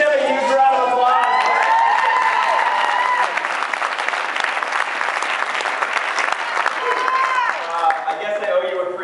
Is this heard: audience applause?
yes